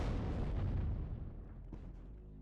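Artillery barrage in the WARNO real-time strategy game, a dense rumbling roll of heavy booms with one sharper blast near the end, loud and continuous, no talking.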